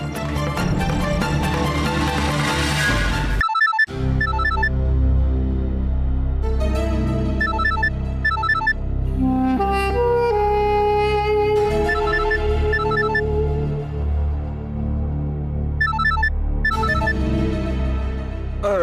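A loud melodic phone ringtone plays continuously, a bright electronic tune with repeating chime-like notes and a steady beat, no voices.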